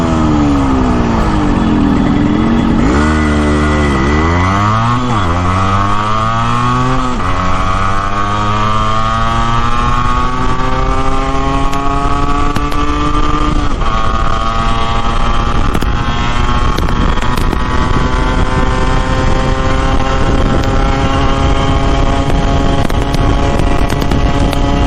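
Motorcycle engine descending from a hill temple at Avichalnath Mahadev, loud and close, its pitch rising and falling in sweeping shifts as the rider works the throttle on the way down, running steadily for the whole stretch.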